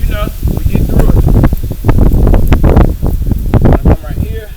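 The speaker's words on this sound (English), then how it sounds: "It's a little windy out here" Gusty wind blows outdoors in a garden, buffeting the microphone with loud, continuous rumbling and rushing bursts throughout.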